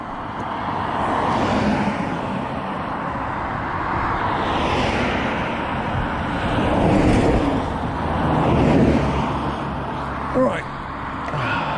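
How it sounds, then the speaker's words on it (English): Road traffic rumbles past at close range, with vehicles swelling and fading one after another over steady wind-like noise, and a brief knock near the end. "Gap in the traffic."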